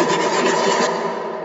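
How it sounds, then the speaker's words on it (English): A recorded computer mouse being moved around, drenched in convolution reverb, becomes a continuous washy, rasping hiss with a steady level and a slight fade at the end, heard alone. "someone told me to record me moving my mouse around, and I put a lot of convolver on it"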